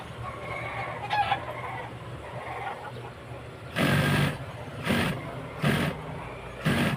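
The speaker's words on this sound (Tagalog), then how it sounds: "Manok." Bursts of chicken clucking, four short loud calls in the second half, over a steady low hum and faint background chatter.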